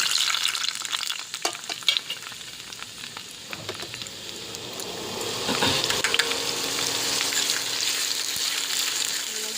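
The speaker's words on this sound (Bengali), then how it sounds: "সিদ্ধ করে রাখা পেঁপে আর আলু দিয়ে দিলাম কড়াইতে" Boiled papaya and potato tipped into hot ghee in a kadai, scattered clinks and scrapes followed by a loud, rising crackle of frying that settles into a steady close sizzle, with no one talking.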